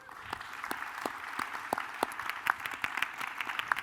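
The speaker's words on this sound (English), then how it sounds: "So let's give them a round of applause as well." Scattered audience applause at a Disney Infinity Toy Box Summit stage event, a moderate patter of individual claps with a few sharper ones standing out, steady for several seconds.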